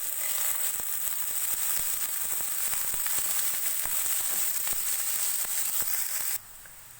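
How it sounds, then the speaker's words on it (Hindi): Onions fry in two tablespoons of hot oil in a pan, a steady bright hiss peppered with constant small crackles and pops, holding level and then dropping sharply quieter just before the end. "ऑयल गर्म हो जाएगा तो मैं इसमें प्याज फ्राई करूंगी।"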